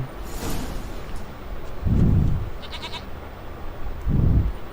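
Two loud, close goat bleats in The Witcher 3, each a drawn-out nasal call, heard over a steady background hiss with a faint earlier bleat at the start.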